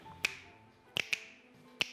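Four sharp finger snaps, up close and unaccompanied, arriving unevenly: one, a quick pair, and one more after a pause.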